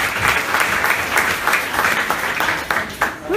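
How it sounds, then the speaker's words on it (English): An audience claps together after a talk, a burst of dense, close applause that swells in waves and tapers off near the end. "one last round of applause"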